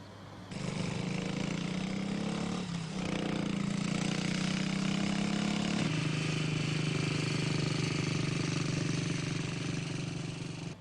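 A 1960s British motorcycle pulling away across a junction, a loud continuous engine drone that rises in pitch, drops with a gear change and then holds steady, close and alone.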